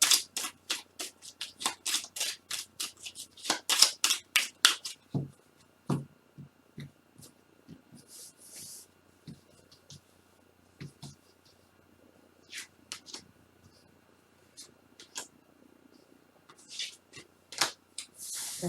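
Oracle cards are shuffled in a quick run of crisp riffling bursts, then dealt and laid down with scattered soft slaps and slides, while someone speaks quietly in places.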